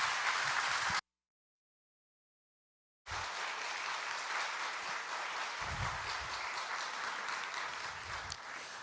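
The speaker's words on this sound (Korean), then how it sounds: "우리 박수 한번 하십시다" Congregation applauding during a church service, a sustained, even patter of many hands that drops out briefly and then resumes, steady and fairly loud.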